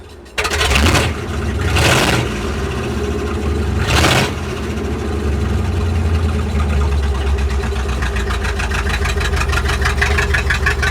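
A Ford F600 truck engine runs close by, with three sharp revving bursts in the first few seconds, then settles into a steady rough idle that carries on alone to the end.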